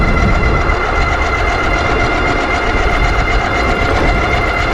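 A C3STROM Astro Pro electric bike ridden at full throttle produces a loud, constant roar of wind and rolling rumble, with a faint ticking texture and no pauses.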